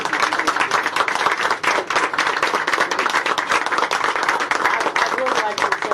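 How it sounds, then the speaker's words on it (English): Steady applause and clapping from a school board meeting audience honoring the vice chair, dense and continuous throughout with scattered voices mixed in. "you need a round of applause and standing"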